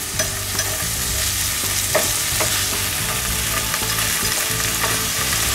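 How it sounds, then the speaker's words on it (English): Fresh fava beans sizzling steadily in oil with ground black pepper as they are stirred, a loud continuous crackle with occasional scraping taps of the utensil. "I love that sizzle."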